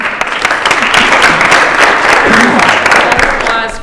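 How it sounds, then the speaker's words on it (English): Audience applause fills a hall during a student event, a steady dense wash of many hands clapping at once, loud and sustained from start to finish with no break. "Applause for all of you."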